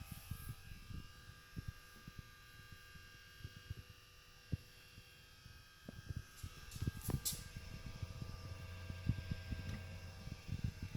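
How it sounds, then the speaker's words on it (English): A running Xbox One console fan with a loud jet-like fault gives a whirring, buzzing drone close by, broken by scattered clicks and knocks and a brief brighter whine partway through. "It sounds like the fan. Gotta be the fan."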